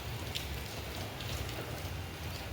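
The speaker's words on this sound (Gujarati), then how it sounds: "વરસાદ ચાલુ થઈ ગયો ઝીણો." Light, fine rain falls steadily, a soft continuous hiss of drops on surfaces at even level throughout, with no voices.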